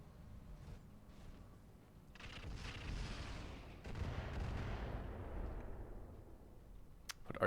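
In the mech strategy game Battletech with the Roguetech overhaul mod, artillery fire lands as a deep rumbling boom that swells and rolls on for several seconds. A sharp crack comes near the end.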